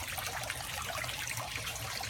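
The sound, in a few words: water trickling through aquaponic drip system tubes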